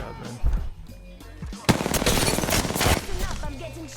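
Rapid automatic gunfire and shots in an Apex Legends battle royale match, loud and dense, with a burst of sustained fire in the second half and a voice talking over it early on.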